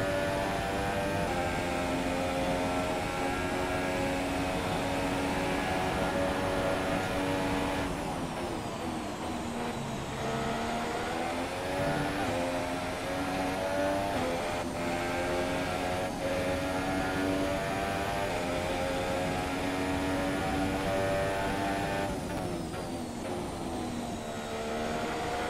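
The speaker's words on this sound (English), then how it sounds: "Why did it sound like there's a freaking Apache helicopter in my mic right now?" A racing game session, an F1 2017 online championship on Xbox One, fills the headset microphone with a loud, steady, droning engine-like roar that resembles a helicopter, layered with whining tones and continuing throughout without speech.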